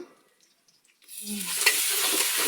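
Bay leaves and garam masala hit hot oil on a gas stove: after a second of near silence, a loud, close sizzle bursts up and keeps crackling steadily.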